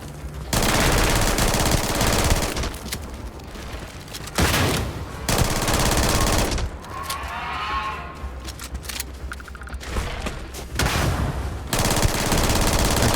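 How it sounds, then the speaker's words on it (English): Loud rapid blasts and gunfire from the Starfield video game come in long dense bursts separated by short quieter lulls. "What are all these things that are exploding?"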